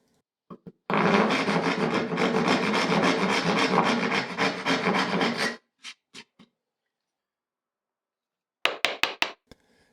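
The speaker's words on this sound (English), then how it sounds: "I transfer the one side of the dovetails onto the front panels of the drawers, by first sawing out the sides where I can." Hand saw cutting dovetail sides into wooden drawer front panels: a steady run of rapid rasping strokes for several seconds, then a few scattered knocks and short scrapes, close and with no talk.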